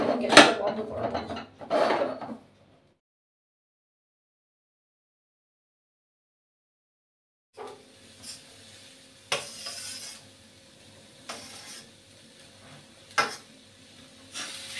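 A spoon scrapes and clinks through thick kheer filling in a pan on a gas stove, with soft stirring scrapes, a few sharp taps on the pan, and a long silent gap between them.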